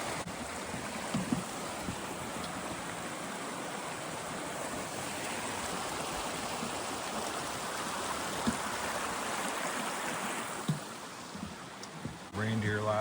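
A creek flowing out of Vista Lake in Banff National Park, heard as a steady, broad rushing of water close by that fills the whole stretch without pause.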